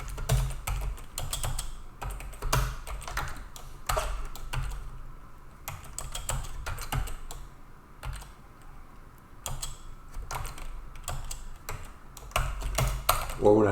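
Computer keyboard typing while writing Python code, a steady run of light clicky keystrokes in bursts with short pauses, up close, with a voice talking over parts of it.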